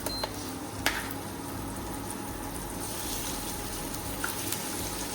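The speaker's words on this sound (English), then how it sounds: "So now I'm going to be frying up the chicken thigh." Steady sizzling and crackling of skin-side-down chicken thighs frying in a pan, a continuous hiss with a few faint clinks.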